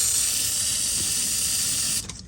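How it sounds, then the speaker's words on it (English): Penetrating spray hisses from an aerosol can around the transmission bell housing of a GMC Sierra truck with a 6L80 transmission, one loud continuous close burst that cuts off after about two seconds, with no talking. "I'm spraying all up in there in that bell housing."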